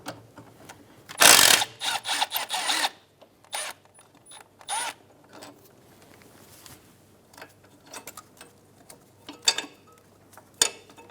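A ratchet wrench backs out a 12mm bolt holding the ABS harness and brake line on the front strut of a 2010-2015 Lexus RX350, giving short bursts of clicking and metallic handling noises with pauses between, close and moderately loud.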